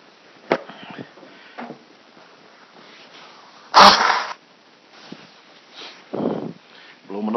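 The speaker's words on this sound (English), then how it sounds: "Blow my nose on camera." A man blowing his nose on camera, one loud forceful burst in the middle of quiet indoor sounds, with short sniffs and soft rustles before and after.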